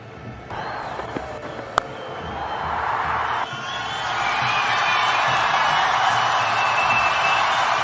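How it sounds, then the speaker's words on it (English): Crowd noise rises at a cricket stadium during a Sri Lanka versus England one-day international after back-to-back boundaries, swelling into a sustained roar of cheering with a few sharp slaps and whoops early on. "Gets the crowd's voice back again."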